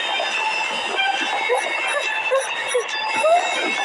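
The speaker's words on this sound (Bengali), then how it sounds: "ওকে এবার ট্রেন দিয়ে আটকাচ্ছি" A cartoon train sound effect plays, a rolling rail rumble with squealing wheel tones and short whistles, mid-loud under cartoon dialogue.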